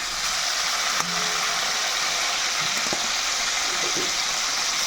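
Large chicken pieces fry in oil for a homemade Bengali chicken curry, making a steady, close crackling sizzle with a few clinks and stirring knocks from the pan and no voices.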